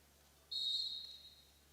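A single short, sharp referee whistle blast at a high school girls basketball game, fairly faint and lasting about half a second over quiet gym background, with no talking.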